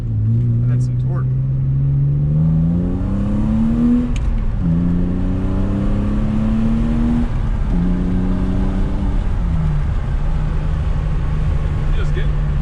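A car on a test ride accelerates hard through several gears, its engine note climbing in pitch and dropping at each shift, loud and continuous in the cabin.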